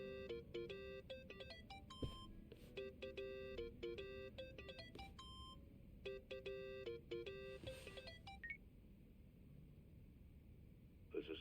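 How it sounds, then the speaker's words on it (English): In the video game Yakuza: Like A Dragon, a phone rings with a repeating electronic melody in short bursts over quiet background noise, then fades near the end. "Think that's your phone, man."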